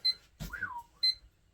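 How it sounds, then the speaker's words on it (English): Short electronic alarm clock beeps in a room where scrap aluminum and copper are being stripped, two bright tonal bursts about a second apart with a soft swooping tone and rustling between them. "That was the alarm clock."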